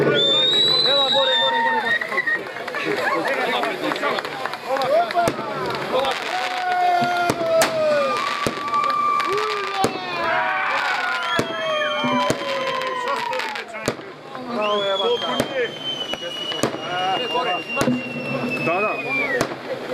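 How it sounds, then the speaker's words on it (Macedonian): Fireworks display at the 2017 Kurajca carnival: a steady run of sharp bangs and crackles scattered through the whole stretch, loud and fairly close, over a noisy crowd with shouting and talking voices. "огнометот може да започне"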